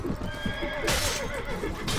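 Horse neighing and hooves clip-clopping in the battle game Mount & Blade: Warband, A Clash of Kings mod, amid busy, loud combat noise and a bright burst near the middle.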